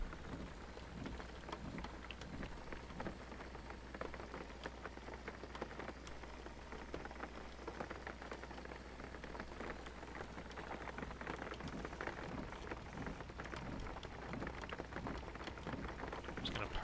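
Steady rain drums on a car while driving in the game Jalopy, a dense, even patter of drops with no talk, faint and continuous throughout.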